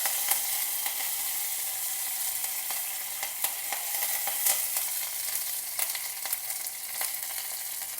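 Steady crackling sizzle of mustard seeds, methi seeds, dry red chilies and curry leaves frying in hot oil, with sharp pops scattered throughout, close and continuous.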